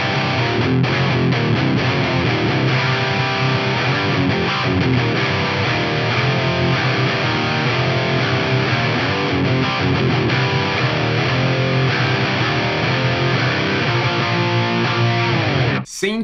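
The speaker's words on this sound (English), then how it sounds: "Let's hear this in drop C on my PRS." A PRS electric guitar in drop C tuning plays through a Fractal FM3 modeler with distortion and plate reverb: a loud, dense, sustained riff that runs unbroken before cutting off abruptly at the end.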